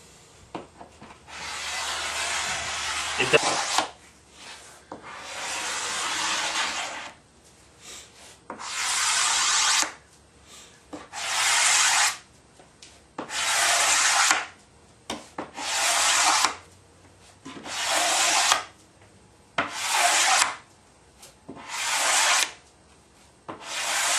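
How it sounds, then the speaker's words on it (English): A blade scrapes along the grain of a wooden cabinet door being refinished, in about nine steady, rhythmic strokes, each a loud rasping rub with short pauses between, heard alone without talk. "Always try to scrape with the wood grain"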